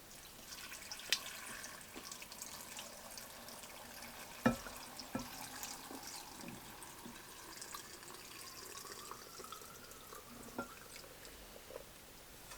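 Water measured by the cup and poured into a glass jar, heard as quiet trickling and splashing with a few brief clinks, close and alone.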